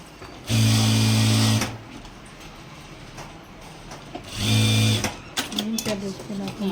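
A sewing machine stitches thread piping onto a blouse, main fabric layered with piping and lining, running in two loud sustained bursts with a steady whirring hum, then a few short start-stop runs, with faint talking in the pauses.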